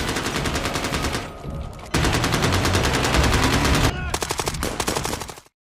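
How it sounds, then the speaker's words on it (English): Sustained machine gun fire during a film gun battle between a SWAT team and armed men, rapid loud bursts running almost the whole time with a brief lull near the middle, mixed with scattered gunshots and faint voices. "The SWAT team then arrived using the machine gun on Lloyd's men."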